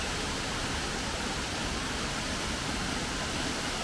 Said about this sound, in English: Yes, personal waterfall experience.